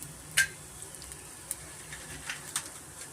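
Coriander seeds fry in oil with a low crackling sizzle broken by several sharp ticks and clinks of a spoon against the pan.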